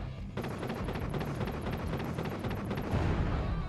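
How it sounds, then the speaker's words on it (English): A sustained roar of rapid explosive blasts and crackling bursts, dense and loud, continuing without pause like heavy gunfire and explosions in the video game Vicious Attack Llama Apocalypse. "That's like the explosion."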